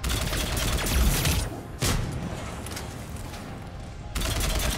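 Sustained automatic weapon fire in Mass Effect 3, a dense, steady roar of rapid shots broken by a brief pause and resuming loudly, under faint background sound.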